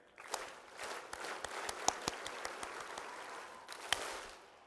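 An audience at a speech claps together in a steady, rhythmic unison beat, sharp hand claps spaced evenly over a diffuse wash of scattered applause, fairly distant and moderately quiet.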